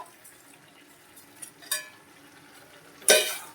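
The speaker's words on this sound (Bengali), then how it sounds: "জল দিয়ে নেড়ে নিলাম এবার এই ডুমুরগুলো এই দেখুন একটু কষ নেই কিছু নেই পরিষ্কার ধপধপে এগুলো দিয়ে দিচ্ছি ডুমুরগুলো" Cleaned figs go into a pan of spiced oil and water for a Bengali fig curry: quiet light clinks come first, then a sudden short splash and hiss.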